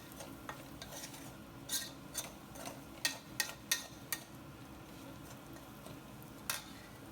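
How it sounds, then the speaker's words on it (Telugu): Bitter gourd with red chilli powder fries on a low flame with a soft, steady sizzle, as a spoon scrapes and taps the pan in sharp, irregular strokes clustered near the middle. "ఇప్పుడు పూర్తిగా సిమ్లో పెట్టేసుకొని దీన్ని ఒక నిమిషం పాటు ఫ్రై అవనిద్దాము"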